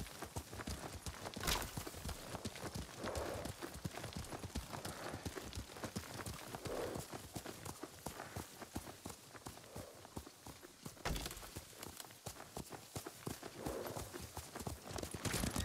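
Horse hooves clip-clopping at a trot in the Ghost of Tsushima video game, a steady rhythmic patter close by that runs throughout, with a faint whinny and soft background sounds.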